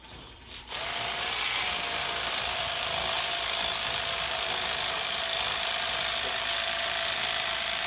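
An electric fillet knife cutting through a buffalo fish, giving a steady, close mechanical buzz that starts abruptly after a brief quiet moment and keeps running evenly throughout, no voices.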